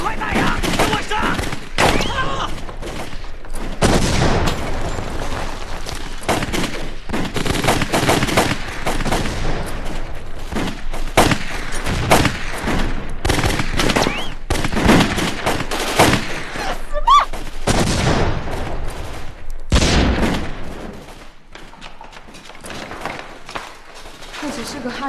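Gunshots and machine-gun fire in a war film set during the war against Japan: long bursts of automatic fire and single shots, close and loud, with shouting voices over much of the battle before it eases near the end.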